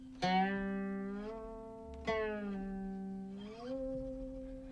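Three plucked guqin notes, each bending smoothly in pitch as the string is slid along, ringing and fading softly with no voices.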